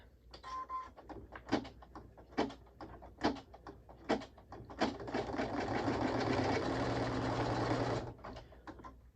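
A sewing machine stitches a soft key tag, first in short separate bursts of a few stitches, then in one sustained whirring run lasting several seconds before it stops. The machine is close and there is no talking.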